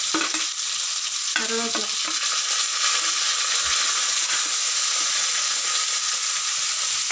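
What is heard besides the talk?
onion and curry leaves frying in a pan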